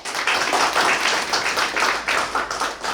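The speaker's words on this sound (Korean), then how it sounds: "김종찬 과장님께 다시 한번 큰 박수 부탁드립니다" Audience applause at a fire prevention forum on construction-site fire safety, a steady dense clapping from a seated crowd that carries through the whole stretch with small swells.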